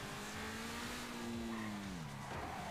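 A $2 million Ferrari in GTA 5 skids under engine noise, with a tire squeal that holds a sustained pitch and then bends downward as the car slides, fairly faint and alone.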